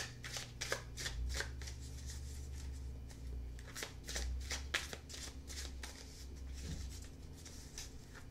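Tarot cards are shuffled by hand at close range, a run of crisp riffling flutters and soft slaps repeating in quick bursts against a quiet room.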